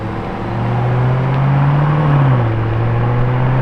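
A yellow Lamborghini Urus S passing close by, its engine a steady low drone that swells and slightly rises in pitch before settling back, loud and continuous with no talk.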